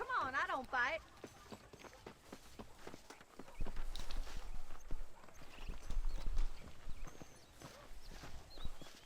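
Horse hooves clip-clop at a walking pace in the Red Dead Redemption video game, opening with a brief whinny, then rhythmic hoof strikes rising and falling in loudness at moderate distance.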